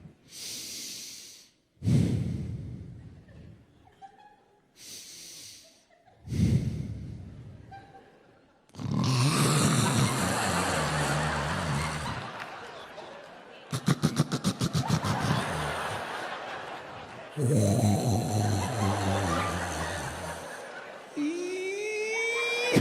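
A voice imitates loud snoring: long rasping, snorting inhales repeated several times, separated by brief silences.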